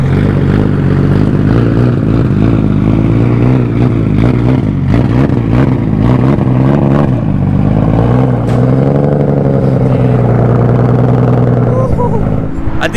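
Nissan Skyline GT-R at a San Diego car meet revving its exhaust, a loud close deep throaty engine note rising and falling through repeated throttle blips, with voices talking faintly underneath.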